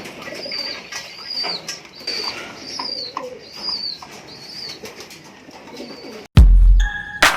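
Pigeons coo softly in repeated rising calls near the listener, with soft rustling, then a sudden burst of loud wing flapping near the end.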